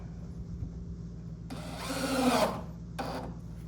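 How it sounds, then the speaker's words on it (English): A power drill driving short screws whirs in two short bursts, the first longer and rising in pitch, over a low background hum. "don't forget to change your clutch settings on your drill"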